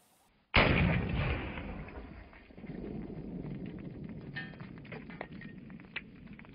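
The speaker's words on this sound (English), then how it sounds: "45 Super. Carl shooting it here, and we've had a couple of times where it didn't go into battery" .45 Super Buffalo Bore 230gr full metal jacket flat nose round fired from a pistol, a single sharp, loud shot followed by a long ringing decay and low rumble, with faint handling clicks afterward.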